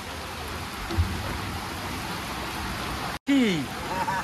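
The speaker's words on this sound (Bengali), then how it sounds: "খুব জোরে বৃষ্টি এসছে এখানে।" Heavy rain pours onto a houseboat on Dal Lake in Srinagar as a steady, dense hiss. It drops out briefly near the end, then returns with a few faint sliding tones over it.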